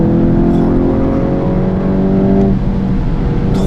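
A VW Golf 8 GTI Clubsport 45 with 300 horsepower pulls hard, its engine a loud, close, continuous droning roar with rising tone, briefly dipping near the end before resuming.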